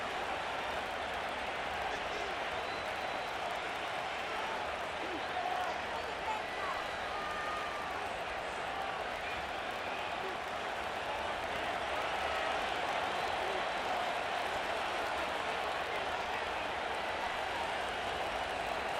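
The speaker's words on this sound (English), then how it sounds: "And they're going to hear it from this crowd." Steady stadium crowd roar from the Madden 25 football video game, Rams against Chargers, as a continuous broad wash of noise with no clear peaks under ongoing commentator play-by-play.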